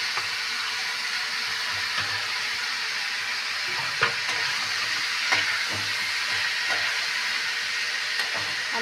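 Carrots, beans, tomato, capsicum and other mixed vegetables fry in a pan with a continuous close hiss and sizzle, and a few light stirring taps stand out now and then, with no one speaking.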